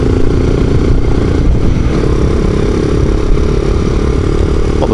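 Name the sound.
Honda motorcycle engine while riding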